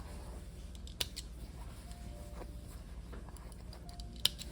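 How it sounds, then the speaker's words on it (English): Scissors snip threads on stitched silk pleats, giving a couple of faint, sharp clicks against a low steady background hiss. "I just have to trim the threads"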